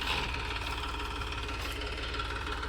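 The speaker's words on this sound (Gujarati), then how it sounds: "પિસ્તાલીસ એચપીનું ટ્રેક્ટર છે" A steady 45 hp diesel tractor engine idles and chugs nearby, a continuous low rumble with a fast rhythmic knock and no voices.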